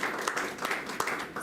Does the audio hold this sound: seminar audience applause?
yes